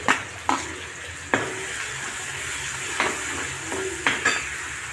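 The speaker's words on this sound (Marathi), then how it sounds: "त्याच्यात कांदा टाकून मस्त सोनेरी कलर येईपर्यंत तळून घ्यायचा।" Chopped onion frying with cumin seeds in a pan gives a steady sizzle, broken by several sharp scrapes and clinks of a spoon stirring against the metal.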